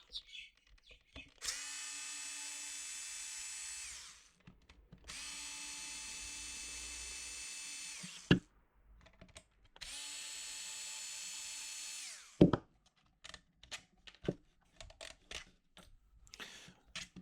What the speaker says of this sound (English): now we have to take apart these 3 long screws here